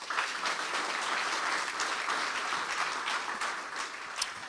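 Audience at a lightning-talk event in Hamburg applauding, a steady, dense clapping from a crowd that fills the room without any talk over it.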